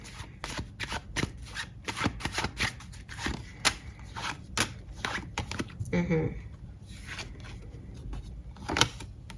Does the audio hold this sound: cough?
no